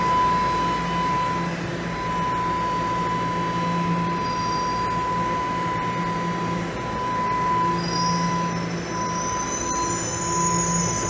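A Toronto subway train rolls into a station, a steady high wheel squeal ringing over the low rumble of the cars throughout, with brief metallic screeches near the end.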